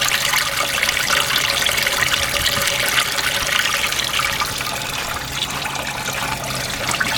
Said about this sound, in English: you can see the water shooting horizontally off to the left